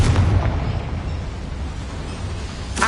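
A Confringo fire spell goes off in the Hogwarts Legacy video game, a loud low explosive burst at the start that fades into a rumbling tail, with another sharp blast at the very end.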